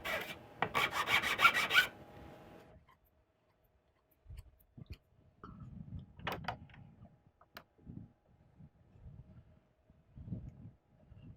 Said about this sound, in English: So I've got myself a flat file.